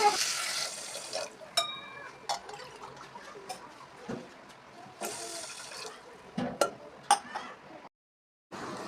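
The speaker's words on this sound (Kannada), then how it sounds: "ಅದಕ್ಕೆ 2 ಗ್ಲಾಸು ನೀರನ್ನು ಹಾಕಿ ಸಕ್ಕರೆ ಪಾನಕವನ್ನು ಮಾಡ್ತಾ ಇದ್ದೇನೆ" Water poured over sugar in a steel pot to make syrup for hotel-style gulab jamun, a broadband splashing and pouring wash with occasional clinks, loud at the start and again mid-way before a short silence.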